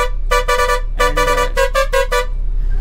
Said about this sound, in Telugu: అండ్ హారన్ కూడా సూపర్ ఉంది